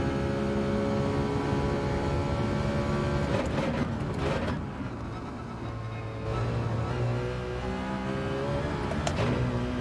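A race car engine in Gran Turismo 7 revs and drones loudly throughout, with the pitch rising and falling through gear changes and a brief dip near the middle.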